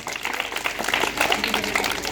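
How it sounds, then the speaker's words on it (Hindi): Audience applause at a village gathering for a government outreach and yoga training event held at a school in Rokdi, Karchhana: a steady patter of many hands clapping, moderately loud, with faint voices mixed in. "सरकार की ऐसी पहल के लिए जोरदार तालियां होनी चाहिए।"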